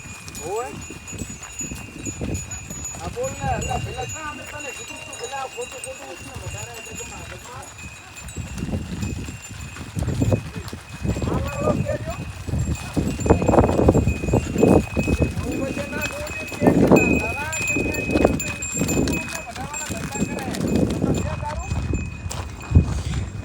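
Hooves of a cow walking at the Vadinath Mahadev temple grounds, a run of nearby clip-clop steps on the ground mixed with people talking throughout.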